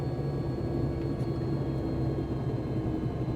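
A Robinson R66 helicopter's turbine idles during shutdown in a flight simulator, a steady, even droning hum with faint whining tones and no speech over it.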